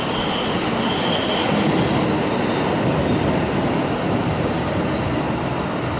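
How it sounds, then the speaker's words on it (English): Tram passing in Essen with loud, sustained high-pitched wheel squeal over a dense rolling rumble, close and continuous with no voices. "Not even a DLR train."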